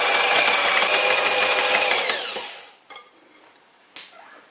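Electric mixer beating pumpkin cheesecake filling after a lightly beaten egg is added, a loud steady whir for about two seconds that winds down, followed by faint clinks.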